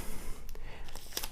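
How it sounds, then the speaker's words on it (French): A few quick ripping sounds of adhesive tape torn by hand, short crisp bursts close by against a faint background hiss. "c'est cool d'utiliser du scotch qu'on peut déchirer à la main"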